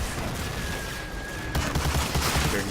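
Tanks and explosions in a war video game: a siren-like tone fades into dense distant gunfire and rumbling blasts that grow slightly louder, with no voices.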